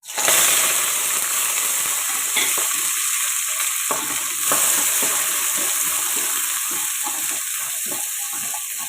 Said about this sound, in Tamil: கடுகு பொறிஞ்சோன்னா சின்ன வெங்காயம் கருவேப்பிலை போட்டுக்கலாங்க